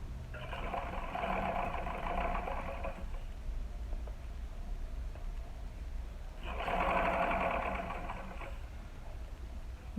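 A sewing machine stitches around the lining of a small baby shoe in two bursts of rapid, even whirring, each about three seconds long with a quiet pause between them, heard close up with no talking.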